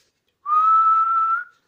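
A single sustained whistle blast, steady and fairly loud, lasting about a second with a slight rise in pitch before it cuts off.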